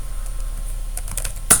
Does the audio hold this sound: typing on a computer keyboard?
yes